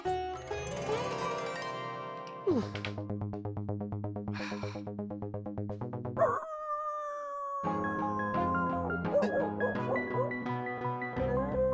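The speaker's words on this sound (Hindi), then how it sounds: "कुत्ते के रोने की आवाज?" A dog's drawn-out, wavering howl rises briefly over dramatic orchestral music from a Hindi TV comedy scene, mostly buried under the score, with no talking.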